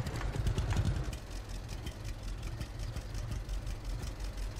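Tractor engine in the Farmers Dynasty farming game, a low steady chugging drone that swells briefly at the start, then holds an even rumble.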